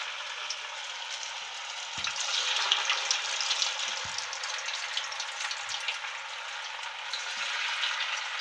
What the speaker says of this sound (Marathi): एक एक करून आपण सगळी भजी टाकून घेऊया. जेवढी तेलात बसते तेवढी त्या कढईमध्ये.